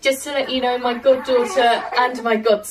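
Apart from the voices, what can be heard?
None of the usual background noises is heard.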